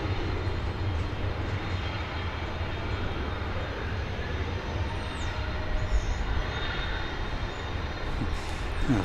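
A 33-year-old airliner from 1991 rumbles at DFW Airport, a steady, distant engine roar with low drone lasting throughout, no voices.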